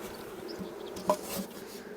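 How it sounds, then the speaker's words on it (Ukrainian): A honeybee swarm newly moved into a hive hums steadily at low level, a faint continuous insect drone with a brief knock partway through. "Ми пересадили рій перший цьому році."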